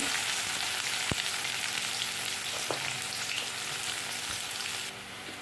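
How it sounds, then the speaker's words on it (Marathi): Chopped onion frying in hot oil with garlic already browned, a steady close crackling sizzle throughout with a couple of brief clicks from a spoon or pan. "आता मी कांदा टाकते कांदा चांगला परतून घ्यायचा लाल होईपर्यंत"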